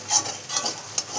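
Potatoes frying in a pan for school-tiffin aloo bhaja, a soft crackling sizzle with a few brief stirring scrapes, fairly quiet and close, no voices.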